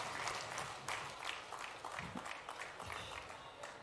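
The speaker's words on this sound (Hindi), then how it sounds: "जोरदार तालियों से आइए सभी बहनें स्वागत करें अपने लाडले भैया" A crowd at a women's welfare rally in Harda claps loudly and steadily to welcome the chief minister, a dense continuous applause with no voices over it.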